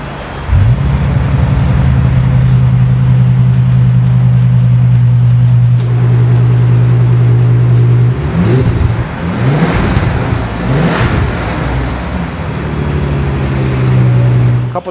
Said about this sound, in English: how about I start it for you, just so you can hear, because it's got a little cool rumble to it